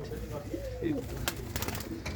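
A Sialkoti pigeon coos once, close and moderately loud, followed by a few sharp clicks and handling noises amid light background chatter.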